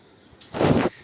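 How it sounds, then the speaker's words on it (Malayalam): A single short burst from a toy gun, close and fairly loud, rising then cutting off after about half a second. "തോക്കൊക്കെ കാഞ്ചി വലിക്കുന്നുണ്ട്."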